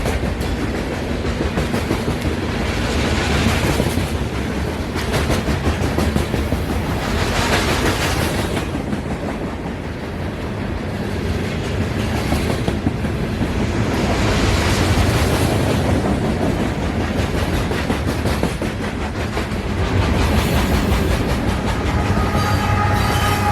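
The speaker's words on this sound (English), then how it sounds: "This train had no problems going through town." A train on the W&A line rolls through town on a swift run toward Cartersville, a loud, close, continuous rumble with clickety-clack of wheels and rail noise swelling and easing over about twenty seconds, no voices.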